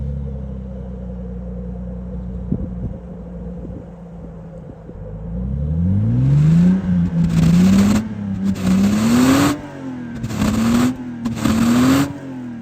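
A Lexus IS300 straight-six idles smoothly, then is revved in a sweeping rise followed by several sharp blips, loud and close with a low rumbling tone and no talking.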